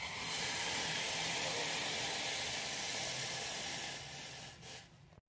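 Water boiling on a stove for making sajje rotti dough, a loud steady hiss with rolling bubbling close by, fading out near the end.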